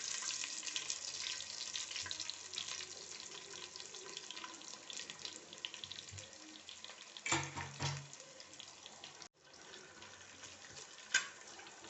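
Sliced onions with cloves fry in hot oil in a home kitchen, a continuous close hiss and sizzle with stirring scrapes and a brief clatter partway through.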